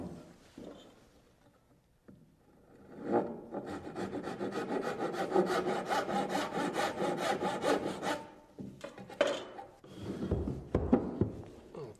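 A hand saw rasps through the corner of a wooden stair tread in a quick run of steady back-and-forth strokes lasting several seconds, followed by a few short scrapes and knocks as the cut finishes.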